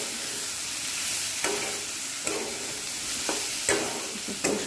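Bottle gourd bhaji with peanut powder being stirred in a pan, a soft ongoing sizzle broken by several scraping spoon strokes at irregular intervals, with no voices.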